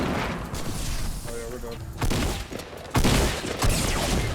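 Bursts of gunfire in a Fortnite battle royale match, with a loud rapid fusillade and a few separate volleys over game noise, while a player talks over the action.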